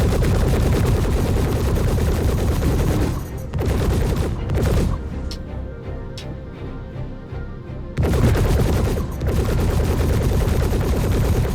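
Rapid automatic gunfire from the Star Citizen video game rattles loudly in long sustained bursts, pausing briefly for a few scattered single shots before resuming full force.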